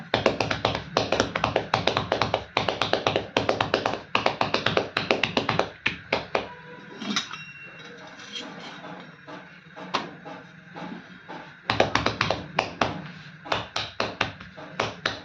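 Hands pat and slap jowar (sorghum) roti dough flat in quick rhythmic bursts of close, crisp taps, with a quieter pause in the middle before the brisk patting resumes.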